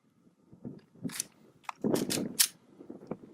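Several sharp gunshots at a paper target from about 8 or 9 yards on a shooting range, fired singly at uneven intervals, each a loud crack with a short decay.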